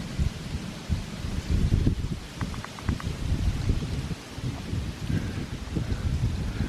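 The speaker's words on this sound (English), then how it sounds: "It's quite windy over this side" Steady wind buffeting by a beach, a continuous low rumbling roar with gusty swells throughout, close and fairly loud.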